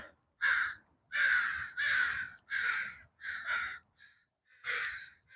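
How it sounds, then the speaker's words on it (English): A group of crows caws outdoors in a run of loud, harsh calls, about seven bursts in steady rhythm, close by and with no talk. "See all them crows right here?"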